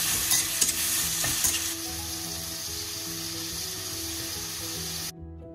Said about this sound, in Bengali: আদা, রসুন, পেঁয়াজ, টমেটো এসবগুলো অ্যাড করব। পরিমাণ মতো নুন আর হলুদ অ্যাড করে বেশ কিছুক্ষণ নাড়াচাড়া করে নেব